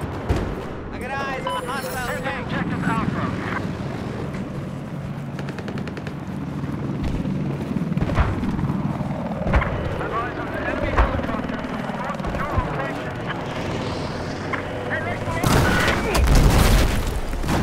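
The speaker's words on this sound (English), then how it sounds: "Looks like there's an enemy helicopter operating to your north." An enemy helicopter flies over a Battlefield 4 multiplayer battle, its rotor churn mixed with machine-gun bursts and booming explosions, while radio voices talk over the busy, loud combat.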